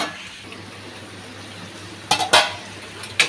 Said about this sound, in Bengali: এগুলো আমি 5 মিনিটের মতো ভালো করে এই মশলার মধ্যে কষিয়ে নেব।